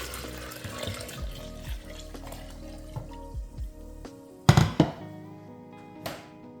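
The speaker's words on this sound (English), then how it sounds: "I'm gonna pour it into a serving container" A lemon mixture is poured into a serving container, a steady close trickle of liquid followed by a few sharp knocks and clunks of the container.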